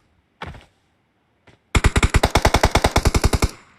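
Rapid automatic gunfire in the mobile battle royale game PUBG Mobile: one isolated shot, a faint pop, then a sustained burst of about twenty evenly spaced loud rounds, close and with no talk over it.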